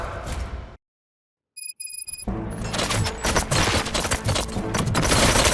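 Bursts of rapid gunfire and loud booms in the video game Robocop: Rogue City after a brief silence, dense and intense, building in volume toward the end.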